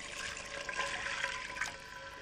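Water poured into a cooking pot holding yellow dried split peas and onions, a soft, steady splashing and filling sound, quiet and continuous, alone without voices.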